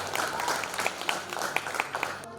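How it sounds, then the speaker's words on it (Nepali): An audience claps in sustained applause throughout, a steady, fairly loud patter of many hands at a Lhosar community party in Pokhara. "तपाईहरु सबैले एकपल्ट चाहिँ उहाँहरू सबैको लागि चाहिँ थपडी मारिदिनु होला अनुरोध गर्छु।"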